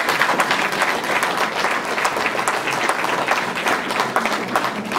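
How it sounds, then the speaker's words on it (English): An audience at a millet seminar claps steadily and fairly loudly, dense overlapping hand claps filling the whole stretch without pause. "Come on, clap."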